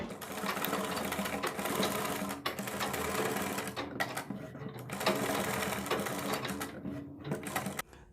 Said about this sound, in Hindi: अब हम बुकरम के बराबर बराबर सिलाई लगाएंगे